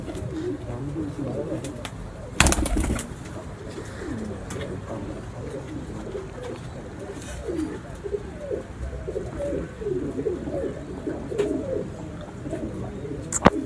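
Pigeons cooing repeatedly in soft, rhythmic bursts on a rooftop, with a sharp knock near the start and faint talk in the background.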